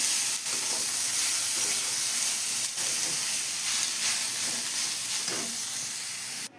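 Chopped banana blossom frying in spiced oil in a pan, giving a loud, steady sizzling hiss throughout with a few brief stirring scrapes.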